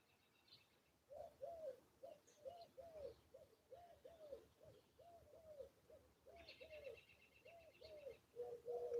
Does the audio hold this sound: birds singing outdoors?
yes